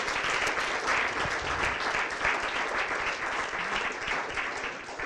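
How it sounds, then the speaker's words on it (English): Audience applause for the speakers at a referral-agent event, a dense steady wash of many hands clapping throughout, fairly loud and close, with no voice over it. "let's just have another round of applause for all the speakers in here"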